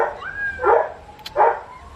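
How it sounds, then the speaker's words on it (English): A dog barks twice at close range, two loud separate barks about three-quarters of a second apart with a faint whine or whimper before the first, heard outdoors with no talking. "let's try that one more time without the annoying dog"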